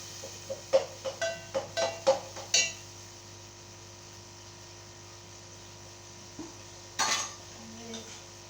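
Dishes and metal utensils clatter sharply in a home kitchen in a quick run of clinks, then fall quiet over a low mains hum before a few more clanks near the end.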